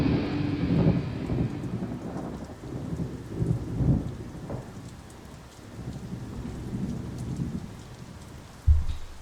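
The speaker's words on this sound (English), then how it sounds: "After all that heaviness, we're just left in the downpour." Heavy rain pours steadily in a music track while thunder rumbles low and rolling beneath it, swelling and fading, with a sharper thunder crack near the end.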